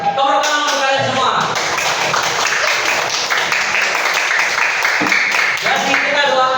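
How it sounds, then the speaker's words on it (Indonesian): Children clap together in a classroom learning session, a dense burst of many hands that runs steadily and close, with voices mixed in over the applause. "Tepuk tangan untuk kalian semua."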